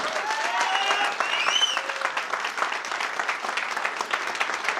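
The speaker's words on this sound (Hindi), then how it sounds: "प्रजापति सर का इतना शानदार ट्रेनिंग रहा, उसके लिए एक शानदार तालियां होनी चाहिए दोस्तों।" An audience at a training session claps, a dense burst of applause that sounds fairly close and steady and lasts the full few seconds. A few whistles or cheers rise briefly near the start.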